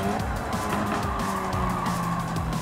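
A race car in Gran Turismo 7 runs a warm-up lap with ABS engaged, its engine note rising and dropping through quick gear changes, with brief tire squeals, loud and close.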